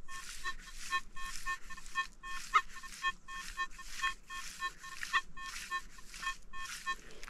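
Nokta Legend metal detector signalling a copper coin buried at 24 cm, a run of about a dozen evenly spaced beeping tones, repeated in a steady rhythm.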